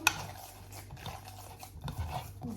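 A utensil stirring batter for chebureki made with lavash, giving irregular close-up scraping and knocking against a bowl with soft clinks, moderately quiet and with no talking.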